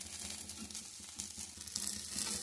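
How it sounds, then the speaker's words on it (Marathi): Sorghum dosa fries in oil poured around the edges of a deep griddle pan, giving a steady close crackling sizzle throughout with no talk. "तर आता मी दुसरा पण डोसा घातलेला आहे आणि तेल पण सोडलेलं आहे कडाने"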